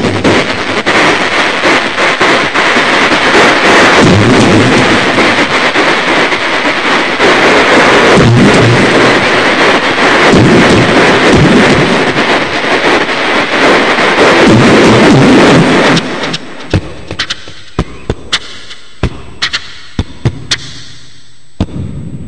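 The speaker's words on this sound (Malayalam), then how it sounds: "പക്ഷെ ശരിക്കുള്ള വെടിക്കെട്ടിന് തീ കൊടുക്കാൻ പോടെ" A real fireworks display with aerial shells goes off at an Onam festival, a dense, loud, continuous roar of bursts and crackles that thins into scattered sharp pops near the end.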